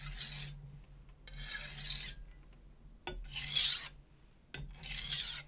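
A Zwilling Pro chef knife is drawn gently across a coarse whetstone in four separate rasping strokes, each a steady gritty scrape lasting about a second, close and fairly quiet, with short silent pauses between them.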